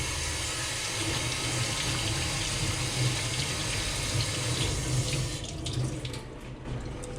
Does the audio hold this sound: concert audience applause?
no